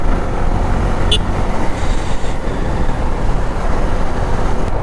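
Road traffic rolls past at a highway toll gate during a long motorcycle ride toward Chennai, a loud steady roar of passing vehicles with a brief high-pitched squeal partway through.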